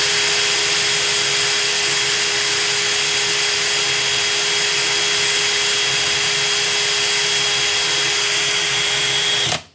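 A pulley spinning on a drill whirs in a loud, constant high-pitched drone as sandpaper is worked against it. The sound runs unbroken for several seconds, then cuts off abruptly at the end.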